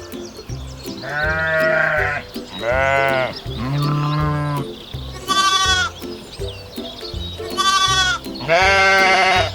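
Several sheep and lambs bleat loudly and close by, one cry after another in drawn-out calls of varying pitch, with a faint steady background murmur between the calls.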